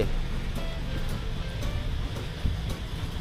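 Sea surf at a forest beach campsite on Koh Chang, Thailand, a loud steady wash of breaking waves rolling on without pause, with a low rumble underneath.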